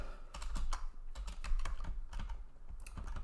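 Quick, irregular typing on a computer keyboard, with clustered key clicks and taps at close range, fairly soft and with no talk over it.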